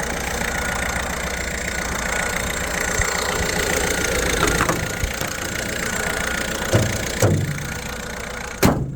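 A van engine idles steadily right after being jump started from a flat battery, a close, continuous mid-pitched rumble with a few brief clunks near the end.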